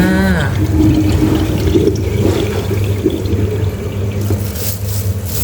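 Limes being washed in a basin of water for the first rinse while making candied lime, with steady close sloshing and swirling water throughout and no talk.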